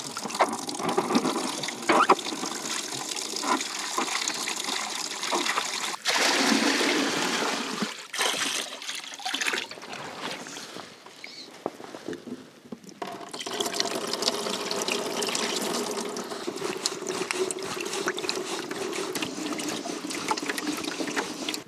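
Clear water is poured and trickles through a filter while washing tuckahoe root starch, a steady close splashing and gushing that thins briefly midway before resuming.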